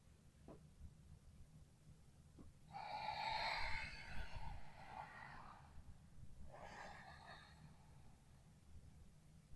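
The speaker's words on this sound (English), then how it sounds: "what the Ujjayi breath does is it creates some heat through the body" Two slow, breathy Ujjayi yoga breaths, each a soft oceanic rush through a constricted throat lasting a few seconds, heard close and quiet against a low background hum, with no talk.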